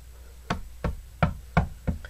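Five firm knocks on a door, evenly spaced about a third of a second apart, close and clear against a quiet background.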